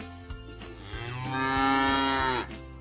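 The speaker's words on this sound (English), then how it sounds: "Cow." A cow lowing in one long, drawn-out moo that swells louder toward its end, alone and fairly close, with a few soft clicks before it.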